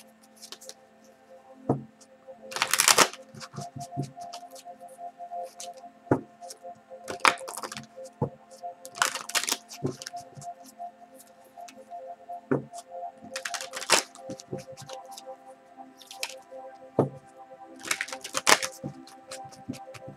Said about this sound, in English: Now I'm shuffling your Spirit Messages Oracle.